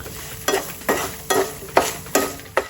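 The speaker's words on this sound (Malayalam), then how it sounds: "പിന്നെ മഞ്ഞൾപ്പൊടിയും ആവശ്യത്തിനുള്ള ഉപ്പും ഇട്ട് നന്നായിട്ട് ഒന്നുകൂടെ വഴറ്റി കൊടുക്കാം" Chili powder, turmeric and salt being sautéed in a pan for a fish egg fry, with six evenly spaced bursts of stirring and sizzling scrapes over a faint steady background.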